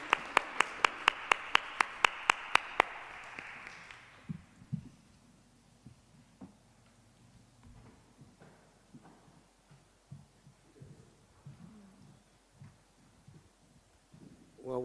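Conference audience applauding a panel at an education discussion, a burst of clapping that swells briefly then fades within a few seconds, followed by quieter room noise and scattered taps.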